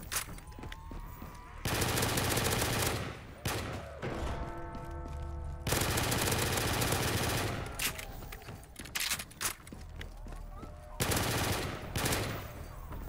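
Gunfire in a Call of Duty Zombies match: long bursts of rapid automatic fire alternate with short pauses, single shots and mechanical clicks, loud and close, with game effects in between.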